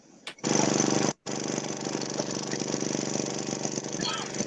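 A motorcycle engine runs roughly and stutters, with slow revs: a short burst, a brief cutout, then steady chugging that continues to the end at close range.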